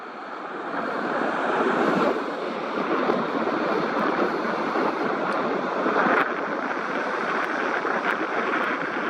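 Ocean waves washing at a beach, a steady broad roar of surf with gusty wind buffeting the microphone throughout.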